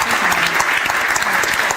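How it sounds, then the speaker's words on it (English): Lecture audience applauds warmly after a poetry reading with guitar at the Freedom Lecture, a loud, close, dense burst of clapping that keeps going steadily with no voices over it. "Let's keep clapping"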